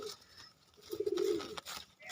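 A soft, low coo from a Madras pigeon rises briefly in the middle, faint and close, with quiet background rustling around it.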